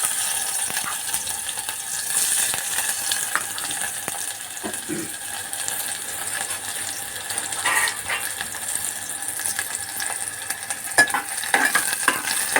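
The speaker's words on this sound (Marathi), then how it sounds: "कांदा लसूण लाल करून घेऊ आपण" Onion and garlic fry in a pan for a groundnut pod curry, a soft continuous sizzle with occasional stirring scrapes and clinks throughout, fairly quiet and without talk.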